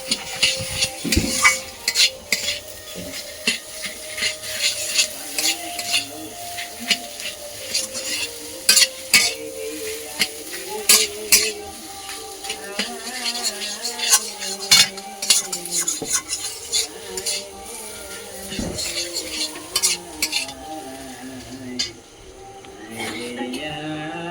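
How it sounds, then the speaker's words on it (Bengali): Taro lentil curry being sautéed in a pan in a village kitchen, with steady sizzling and frying plus frequent sharp scrapes and clinks of a spatula stirring against the metal pan throughout. "কষিয়ে নেব"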